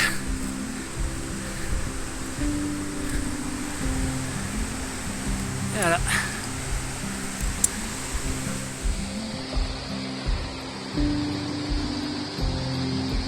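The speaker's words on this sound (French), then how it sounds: "Et cette dernière passe juste au-dessus de la cascade." A mountain waterfall in the Vanoise roars steadily throughout, a broad continuous wash heard from close by, with a few tonal bird-like sounds and a short spoken phrase.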